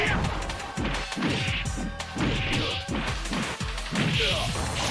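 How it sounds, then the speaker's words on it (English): Sonic Boom projectile attacks in Street Fighter Alpha 3 fire repeatedly in a steady rhythm of sharp whooshing impacts and crashes, loud and busy, with game effects layered together. "Sonic boom!"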